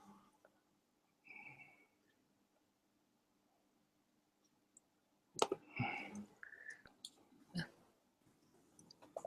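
Keyboard typing during a programming talk, heard as bursts of sharp clicks starting about midway, fairly close and moderately loud after a near-silent stretch with a few faint taps.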